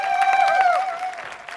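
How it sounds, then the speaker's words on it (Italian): Applause from the audience of a live Italian touring entertainment show, a dense steady patter of clapping mixed with strong sustained tonal music or voices above it, loud throughout. "Facciamo un applauso,"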